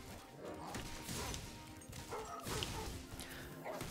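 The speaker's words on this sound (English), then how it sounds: "It's just these stupid dogs that get in the way, really." Dogs barking and yipping during a boss fight in the video game Spyro Reignited Trilogy, several short barks mixed with crashing and thwacking impacts over busy game noise, faint overall.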